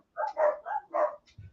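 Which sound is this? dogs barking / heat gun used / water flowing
dogs barking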